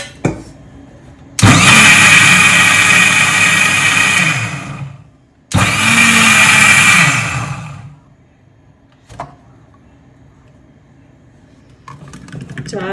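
A mixer grinder whirs loudly through soaked dal with water added. It runs in two long bursts separated by a brief pause, then goes quiet with a few faint knocks.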